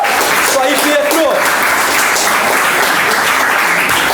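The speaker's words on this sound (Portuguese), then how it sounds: "Então aplaude Jesus!" A church congregation at a Pentecostal service applauds loudly and steadily, a dense sustained wash of clapping with voices mixed in throughout.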